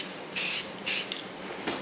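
Primer sprayed from a can onto an engine timing cover, three short hissing bursts close to the mic, each about half a second, with a quieter fourth at the end.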